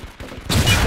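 A single sniper rifle shot in a shooter video game rings out sharply halfway through a brief quiet moment and leaves a short trailing echo.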